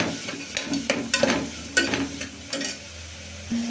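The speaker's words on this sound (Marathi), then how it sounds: "तर कांदा चांगला परतला आपण दुसरे भाज्या टाकून घेऊ" Onion and other vegetables such as tomato being sautéed in a pan for a vegetable khichdi, with a steady sizzle broken by several scraping stirs of a spoon, close and fairly loud, no talking.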